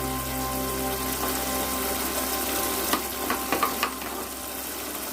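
Spiced masala sizzles as it fries in a pan for a rohu fish curry with mustard, a steady frying hiss under a low hum, with a few sharp spoon scrapes or taps near the end.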